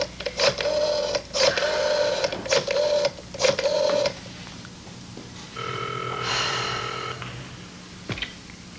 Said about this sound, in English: So if you don't mind, I'm going to use your phone and call Geraldine